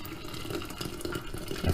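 Hot boiling water pouring into a glass pitcher for tamarind juice, a brief steady splashing rush that swells slightly at the end, close by with no talking.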